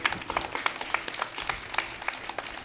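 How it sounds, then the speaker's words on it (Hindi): Audience at a Guru Purnima religious gathering with saints claps for itself, a steady patter of scattered hand claps with sharp individual peaks, moderately close and fairly faint, with no talk over it. "अरे अपने लिए तो ताली बजा दीजिए आप लोग।"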